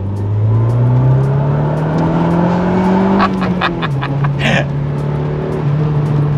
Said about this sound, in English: the difference that this titanium exhaust makes